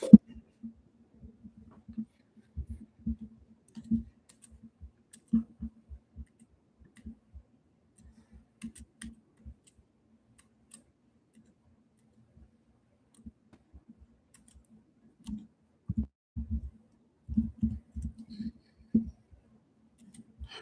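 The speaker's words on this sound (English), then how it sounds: "so sorry for typing." Soft, scattered clicks of typing on a computer keyboard in a quiet room, irregular bursts of taps with long pauses between, faint and close.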